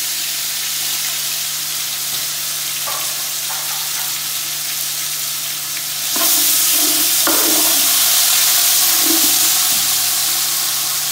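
Two chopped tomatoes go into a hot pan for chana pulao, and a steady loud sizzle turns sharply louder as they hit the oil, with faint stirring scrapes and no talking.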